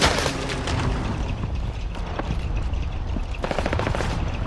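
Video game gunfire rattles in loud, dense automatic bursts, with rapid repeated shots and booming impacts running continuously from start to finish.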